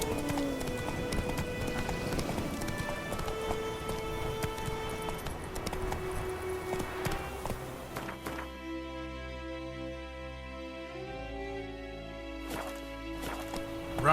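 A horse gallops with rapid clip-clop hoofbeats in The Witcher 3 video game, under a musical score, the hooves fading as sustained music tones take over.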